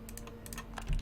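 Quick computer keyboard and button clicks, a close run of crisp taps in an irregular rhythm, with a slightly heavier knock at the very end.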